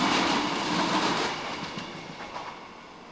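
A multiple-unit train runs past an overbridge near Guide Bridge on the line to Manchester Piccadilly, a steady broadband rumble and rush with faint rail clatter that slowly fades as it goes by.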